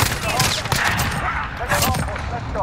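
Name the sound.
gunfire in Call of Duty Modern Warfare video game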